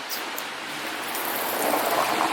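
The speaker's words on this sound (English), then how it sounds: "as you can see it's raining" Rain falls outdoors in a town on a morning in Aquileia, a steady broadband hiss that swells slightly louder toward the end, close and continuous with no talking.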